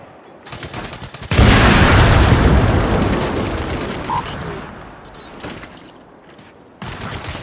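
A grenade blast in the video game Gears 5 erupts as a loud, broad roar. It stays heavy for several seconds while sharp gunfire crackles around it, then fades back toward steady combat noise.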